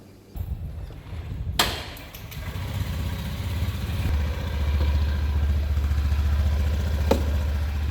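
Honda Beat scooter engine starting up after a sharp click, then settling into a steady close low idle and rev in Denpasar, Bali, with no talk over it.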